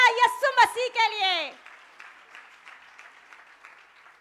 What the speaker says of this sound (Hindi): ज़्यादा तालियां यीशु मसीह के लिए।